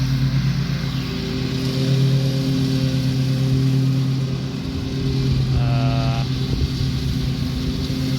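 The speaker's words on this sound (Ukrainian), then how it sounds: "А ось що таке газонокосарка американська." An American ride-on lawn mower cutting a private lawn in Florida, a steady engine drone with a droning tonal hum that carries on without a break, rising slightly partway through.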